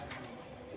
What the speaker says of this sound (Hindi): काफ़ी अच्छे कबूतर भाई देखा गया है।